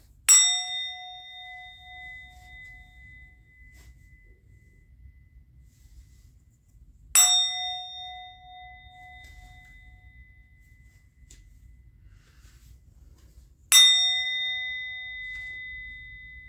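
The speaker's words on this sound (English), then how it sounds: "I'm going to ring the bell." A bell struck three times at even intervals of about seven seconds. Each strike gives a bright, clear ring that decays slowly over a quiet background, with no voices.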